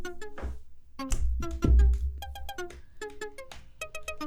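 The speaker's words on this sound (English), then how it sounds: "And the ARP sounds something like this." Arpeggiator synth layer in a hip-hop beat, bright plucky notes stepping in a fast repeating pattern over occasional low bass hits.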